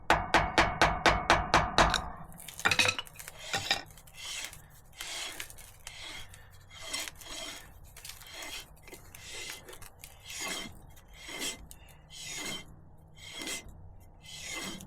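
Metal-on-metal hammering on a brake part being fitted to a 1969 Chevy C20 pickup during a rear disc brake conversion: a rapid burst of about ten sharp strikes, then slower, spaced taps and scraping rasps, close and loud.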